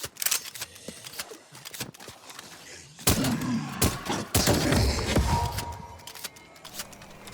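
Video game gunfire from Call of Duty Cold War zombies mode: a sparse scatter of shots gives way to dense, loud bursts of rapid fire with clattering effects, and a voice is briefly audible.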